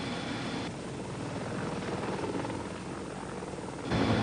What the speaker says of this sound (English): The Apache helicopter would be especially busy in battle with its smart laser-guided air-to-ground missiles.